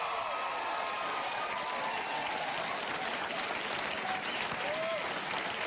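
Studio audience at a daytime talk show breaks into loud, continuous applause and cheering, a steady dense roar of clapping throughout with faint voices mixed in.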